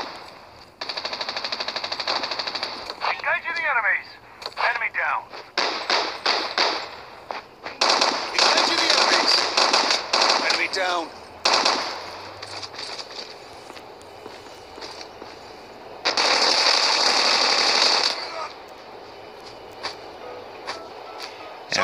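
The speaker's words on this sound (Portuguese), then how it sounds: "Eu tô ouvindo uns tiros, mas não sei onde é." Bursts of rapid gunfire in a Call of Duty battle royale mobile game crackle in repeated volleys, fairly loud, with footsteps and quieter gaps between the shooting.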